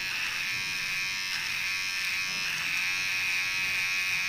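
A Vintage T9 electric hair trimmer hums steadily with a constant high-pitched motor buzz, close and alone, with no talking over it.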